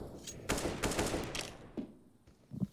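Counter-Strike gunfire wallbanging on the Inferno map in a professional match, a close loud burst of rapid shots followed by a few scattered single shots, more distant and fading.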